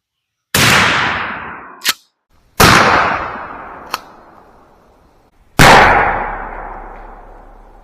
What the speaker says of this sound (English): here's our final shot with the Rio buckshot, the 3x3 double aught